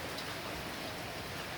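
Heavy rain pours down hard around a Ford Fairlane with water getting inside, a dense and steady hiss of drops drumming on the car with no gaps or voices.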